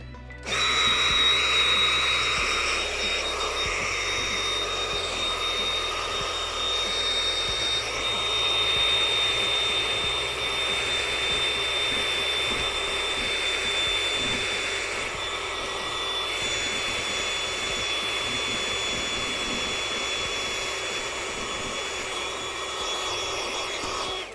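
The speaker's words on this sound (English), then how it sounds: "let's try to use the vacuum on this one" A vacuum cleaner drones steadily and loudly up close while cleaning out a Halo 3 edition Xbox 360, a continuous high whine holding for the whole stretch with no talking.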